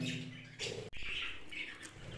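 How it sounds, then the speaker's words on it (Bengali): A pair of small budgerigars and their chicks chirp and twitter in quick, bright bursts close by, with soft chatter continuing between the calls. "এক জোড়া বাজিকার পাখি আছে সবার চেয়ে আলাদা"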